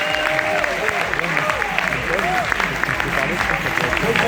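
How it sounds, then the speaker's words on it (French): Audience applause fills a business event hall in Paris, steady and fairly loud throughout, with a speaking voice sounding over the clapping. "Merci Eric, on peut l'applaudir s'il vous plaît."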